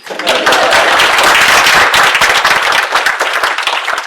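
Audience at a conference talk bursting into loud, close, vigorous applause that starts abruptly and stays dense, with sharp individual claps thinning slightly toward the end.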